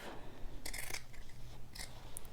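Scissors snip through a fabric seam, trimming close to a row of stitches on a dress bodice, giving a few short, crisp close cuts in quick bursts against a quiet room.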